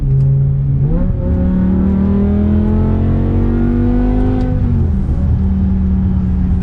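A BMW E60 M5 engine revs, climbing sharply in pitch, holding high for several seconds, then dropping back to a steady idle, loud and close with no talking.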